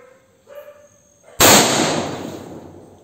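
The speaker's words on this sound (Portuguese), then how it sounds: "O tiro foi de fuzil" After a quiet moment with faint clicks, a single loud, sharp rifle shot from a T4 rifle cracks close by and rings out in a long decaying echo.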